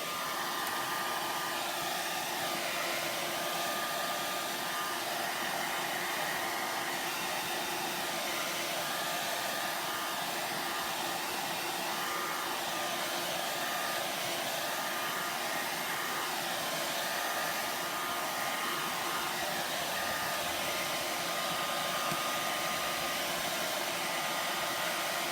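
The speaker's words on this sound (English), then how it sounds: "So I'm going to blow dry these really quick because I need to flip them over." Hair dryer blowing steadily on handmade Valentine's tags, a continuous loud broadband whoosh holding unchanged for the whole stretch with no talk.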